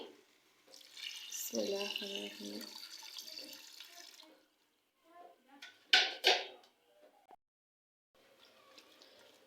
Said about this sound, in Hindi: और अब मैं इसमें ऐड कर दूंगी 2 कप के करीब पानी।